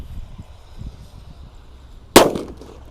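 A colorful sweeter firework wrapped in paper goes off with one sharp, loud crack after quiet low rustling outdoors, the burst fading quickly.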